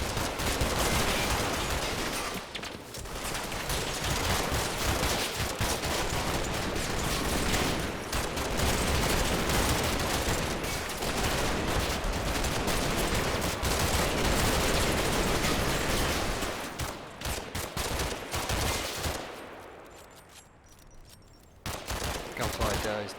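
Sustained heavy gunfire in the Combat Mission: Operation Epsom war game, rapid overlapping shots and bursts, loud and continuous, thinning out near the end before a final burst.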